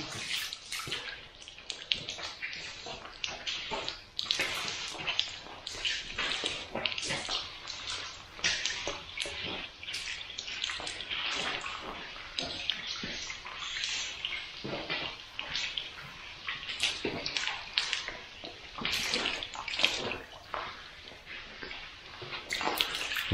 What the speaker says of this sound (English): You wash all the excess off.